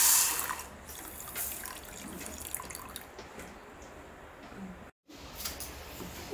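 Water pouring into a glass in a home kitchen while making a snack from urad dal and rice batter, a soft continuous trickling stream with a brief break near the end.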